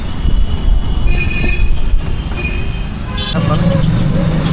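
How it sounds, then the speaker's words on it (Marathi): A steady engine rumble and road noise from inside an auto rickshaw as it rides along in Mathura, with faint voices in the background. "हा लोकल ट्रान्सपोर्ट रिक्षा आहे रिक्षा रिक्षानं निघालो आहे आता मंदिराकडं"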